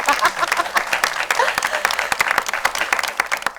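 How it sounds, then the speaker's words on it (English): Audience applause at a talk show on teenage pregnancy: a few seconds of lively, uneven clapping with sharp individual claps standing out. "A round of applause for you guys."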